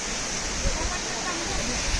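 Zhanetsky Huk waterfall and mountain stream in a Ukrainian canyon, a dense, steady roar of rushing water that fills the whole clip with no break and no voices.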